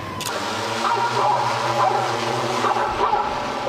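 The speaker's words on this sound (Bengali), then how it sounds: "এবার ড্রোনের সাহায্যে ভাল্লুক তাড়ানোর চেষ্টা করছে জাপান কুকুরের মতো ঘেউ ঘেউ শব্দ" A drone deployed in Japan to drive off bears blares dog-like barking over a steady mechanical hum, the sound loud and continuous throughout.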